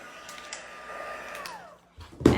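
A heat tool blows steadily while melting embossing powder in a card-making session, a soft continuous whirring hum at moderate distance, ending with a brief louder clunk.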